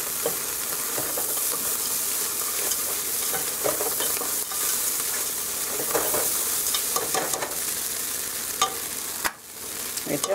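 Sevai stir-fried in a pan with chopped cashew nuts and chopped coriander, a steady loud sizzle with repeated scraping stirs throughout and a brief dip near the end, no talking.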